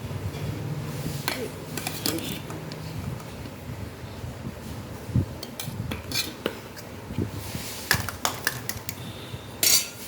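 Rice is stirred in a pan to make fried rice, with metal spoon scrapes and clinks on the pan coming in uneven bursts over a low background, and no talk.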